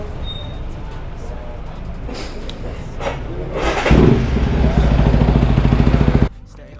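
A motorcycle electric starter with a damaged starter gear cranks roughly, grinding and clattering before the engine catches and idles with a rapid, even pulsing, close and fairly loud, then cuts off abruptly.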